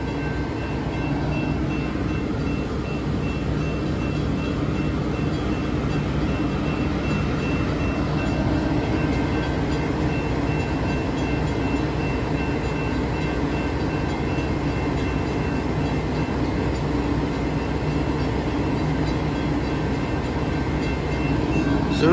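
An Amtrak train departing a station gives a continuous loud low rumble of engine and rolling wagons that holds steady throughout.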